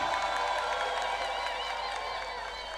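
A crowd at a political convention in a busy hall keeps up a steady wash of clapping and cheering, moderately loud and continuous, with a voice audible over it.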